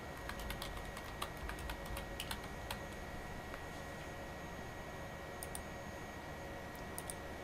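Steady typing on a computer keyboard, a rapid run of light clicks close up over a faint background hum, with no talking.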